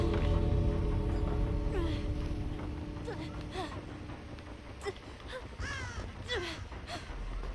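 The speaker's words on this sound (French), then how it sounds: "Moi, j'attends que j'ai les corbeaux là." Crows cawing outdoors on a bright day, several harsh calls scattered across a steady low rumble of background noise, fairly distant and moderate in level.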